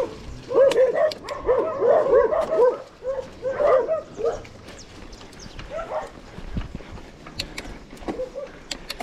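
A dog barks repeatedly in quick bursts nearby, then falls quiet while faint clicks and rustles continue.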